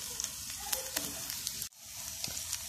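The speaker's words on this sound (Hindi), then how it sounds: "अब हम इसमें जो है शिमला मिर्च फ्राई कर लेंगे।" Bell pepper fries in a pan with a close, crackling sizzle and light popping. The sound breaks off briefly midway, then the frying hiss resumes, with no voices.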